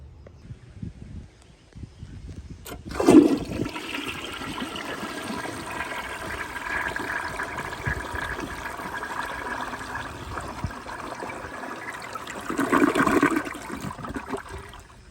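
An old Crane Santonia toilet flushing, rated at 7 gallons, opens with a sharp release followed by a long rushing gush of water that gurgles and surges again near the end before trickling off, close and alone.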